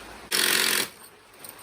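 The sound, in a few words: Makita cordless drill driving screws into timber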